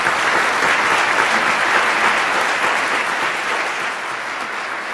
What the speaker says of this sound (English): If we can give all of them a round of applause.